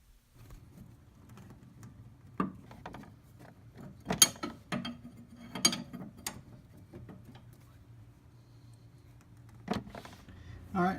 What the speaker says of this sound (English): starting with the easiest bolt to turn first, we'll do the passenger side strut rod bolt.